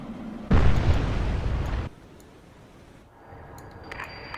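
Incoming missiles are destroyed by an aircraft carrier's defenses in the naval combat game Cold Waters, heard as one loud blast that roars for over a second and then cuts off, followed by faint electronic beeps.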